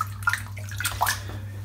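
Cold water runs steadily from a tap at a sink during a wet shave with a razor. The stream is close and continuous, with small splashy variations throughout.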